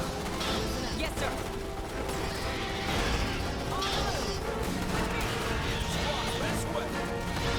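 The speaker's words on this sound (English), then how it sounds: "You can hear their shotguns kick in when they get closer." Shotguns fire in Starship Troopers: Terran Command, a dense battle of repeated blasts, crashes and gunfire under a constant noisy wash of combat sound.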